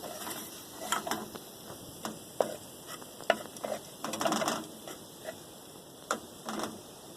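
Habillas beans added to a pan of sautéed filling for habilla empanadas and stirred, with soft sizzling under irregular spoon scrapes and taps, quiet and close.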